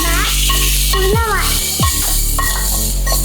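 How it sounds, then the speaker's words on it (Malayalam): Curry leaves tempered in hot coconut oil sizzle loudly as they are stirred into a Malabar chicken curry, a steady close crackle with scraping stir strokes and faint voices in the background. "താളിച്ച കറിവേപ്പിലയും കൂടെ ഇതിനകത്തേക്ക്"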